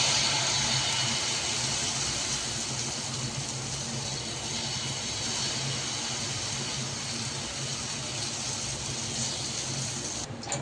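Dosa batter made for an Ashadhi Ekadashi fasting recipe sizzles on a hot pan, a steady broadband hiss that holds evenly for the whole stretch, close and fairly loud with no talking.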